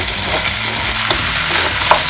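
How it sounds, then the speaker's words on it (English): Rice being lightly fried in a pot while making yellow coconut rice, a loud, dense, continuous sizzle with occasional soft scrapes from stirring, close up and without talk. "I'm trying to just fry the rice a little bit."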